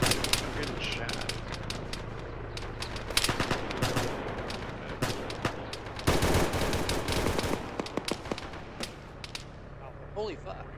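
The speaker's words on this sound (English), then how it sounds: "I'm getting shot." Dense gunfire in a ShackTac military video game, rapid bursts of rifle and machine-gun shots crackling near and far, with voices talking over the shooting.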